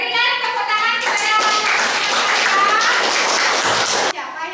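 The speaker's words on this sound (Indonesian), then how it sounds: "Berikan tepuk tangan kepada" A classroom of students claps hands in a lively burst of applause for about three seconds, cutting off abruptly; a voice is heard briefly just before the clapping begins.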